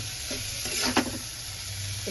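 Masala sizzling in oil in a pan for egg curry as it is stirred, a close, steady fry with a brief scraping stir near the middle.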